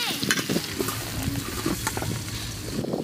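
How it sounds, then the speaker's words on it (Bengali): Potatoes frying in oil in a pan for aloo dum at an outdoor riverside winter picnic, a steady close sizzle with occasional stirring scrapes, some background chatter. "আলুর দমের আলুগুলো একদম লাল করে ভেজে নেব।"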